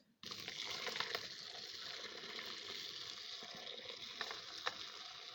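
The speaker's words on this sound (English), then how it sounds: "I'm going to take the big pot of soup and pour it in there." Minestrone hamburger soup pours from a big pot into a strainer, a sudden onset of continuous splashing, gushing liquid that stays steady and close, with a few sharper splats near the end.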